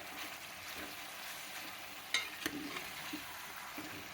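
Chicken fries in a pan with a soft, continuous sizzle, broken by a few light clicks and scrapes of stirring, heard close but fairly quiet.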